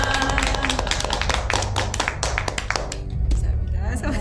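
Audience members clap together at the close of a book talk gathering, a dense patter of applause that thins out near the end, with voices talking over it.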